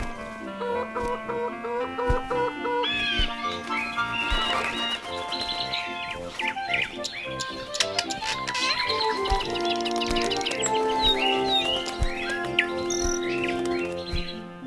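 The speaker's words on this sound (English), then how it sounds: "and more birds" Cartoon birds chirp, tweet and cluck in a bright, busy chorus set over gentle background music, with calls layered on top of each other throughout.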